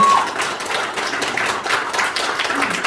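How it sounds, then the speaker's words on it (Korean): Audience clapping at a customer invitation day event, a dense, steady patter of many hands filling the room at moderate loudness for a few seconds, with no voice over it. "큰 박수 부탁드리겠습니다."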